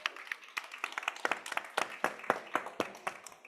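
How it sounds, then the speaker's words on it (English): A small conference audience claps for a panel on biodiversity and the renewable energy sector, sharp individual claps sounding sparse and uneven, fairly faint, over a few seconds. "by giving them a round of applause"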